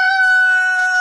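A rooster gives a close, loud, sustained crow with a steady, strongly harmonic tone that lasts the whole second, with no voices.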